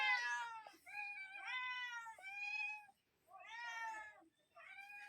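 A cat meows repeatedly, four or five drawn-out, tonal cries close by with short pauses between them.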